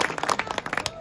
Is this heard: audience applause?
yes